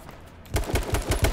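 Automatic gunfire in the battle royale game H1Z1 King of the Kill, a rapid loud burst of about eight evenly spaced shots after a brief quiet start.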